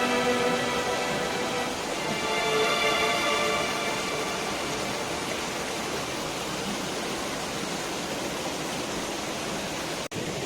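Broad, steady rushing of falling water from a waterfall in Barot valley fills the scene, a constant loud roar with no voices.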